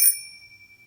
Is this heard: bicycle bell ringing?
yes